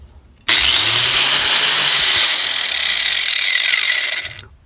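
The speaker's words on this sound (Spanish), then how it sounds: "Vamos a enchufar y vamos a encender esta amoladora." Electric single-speed angle grinder switched on and running free, a sudden loud high whine that starts after a click, holds steady for about four seconds, then fades as it spins down.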